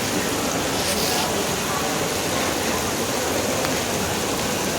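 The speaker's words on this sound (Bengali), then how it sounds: "বৃষ্টি অনেকদিন পর আজ ঢাকাতে খুব ভারী বর্ষণই অনেকটা বলা চলে" Heavy rain pours down in Dhaka around the High Court and Supreme Court grounds, a steady, dense, close hiss of downpour that fills the whole stretch without letting up.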